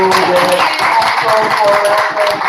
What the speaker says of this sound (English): A big clap to Paola